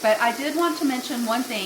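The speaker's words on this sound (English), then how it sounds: "you can probably hear the onion sauteing here in the background" Steady oil sizzle of onions frying in olive oil in a pan, running beneath a person talking close by.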